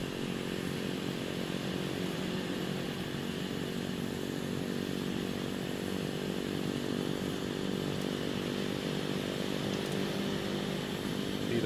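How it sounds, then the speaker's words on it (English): Generator running aboard a turbine-engine charter aircraft, a steady loud mechanical hum and whine, continuous and unchanging throughout with no speech. "And we'll put our generator on now."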